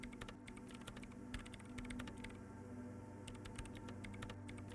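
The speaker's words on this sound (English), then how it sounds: "Hands are a whirl on the keyboard." Rapid keyboard typing from the video game Disco Elysium, a fast, uneven run of small key clicks that keeps going throughout, fairly quiet, over a low background hum.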